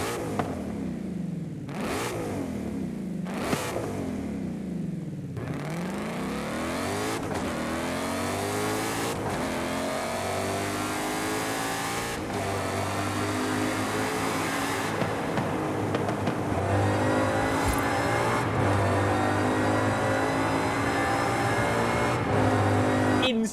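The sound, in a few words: supercharged V8 Ford Raptor R revving, Forza Horizon 5 video game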